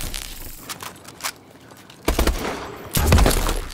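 Rapid bursts of automatic gunfire in a zombie video game, loud and dense, the heaviest volleys coming in two surges toward the end.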